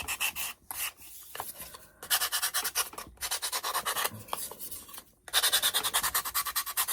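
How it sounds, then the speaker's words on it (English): Sandpaper rubbing back the painted edges of a rooster farmhouse decoration, heard close up as repeated rasping strokes in short bursts with brief pauses between them. "I'm just going to sand him back on the edges a little bit."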